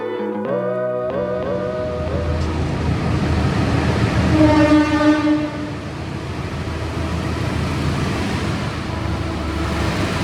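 The Lodaya Malam extra economy-class passenger train at night, Solo to Bandung. A horn sounds at the start, then a loud rolling rumble continues with a second tonal blast midway.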